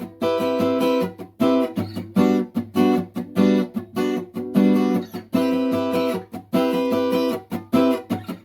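An acoustic guitar strums a song's chorus in a steady rhythmic pattern, close and loud, with ringing chords broken by brief muted gaps and no singing or talking.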